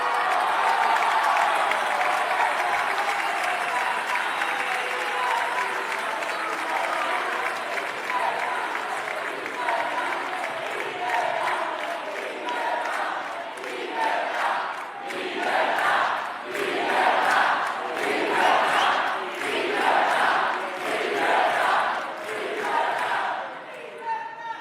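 A legislative chamber fills with sustained applause and scattered shouting, a broad crowd roar that swells in rhythmic bursts toward the end, with no clear single voice over it.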